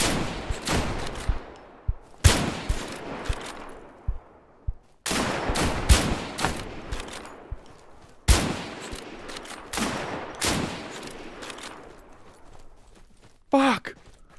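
Heavy gunfire in the multiplayer shooter Deadside, with loud bursts and volleys of shots recurring every few seconds, each echoing and decaying before the next, plus a sharp burst near the end.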